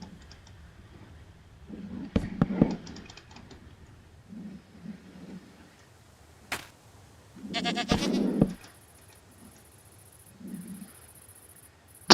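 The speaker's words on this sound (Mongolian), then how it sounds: "За ямаа байна гэдэг чинь." Goat bleats sound inside the horror survival game Horror World in single-player mode: two short bursts of bleating a few seconds apart over a low, quiet game ambience, with some faint clicks.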